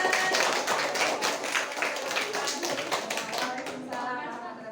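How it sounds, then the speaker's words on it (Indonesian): A classroom of students clapping their hands for a classmate after a presentation, a brisk burst of many claps that is loud at first and then thins and fades toward the end. "tepuk tangan."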